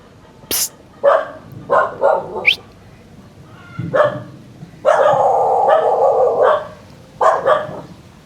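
Several dogs barking in short bursts on an island in Saigon, a few single yaps and then a longer run of sustained barking, fairly near and loud, with a voice briefly between barks.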